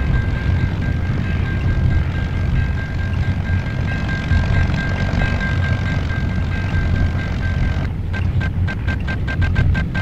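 A WWI propeller airplane engine drones steadily in the Red Baron 3D flight game, a loud continuous buzz with a sustained whine, turning into rapid stuttering pulses near the end.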